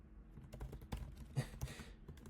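Quiet, irregular clicking of keys on a computer keyboard while someone writes code, the keystrokes coming in quick uneven bursts, close and faint, with no talking.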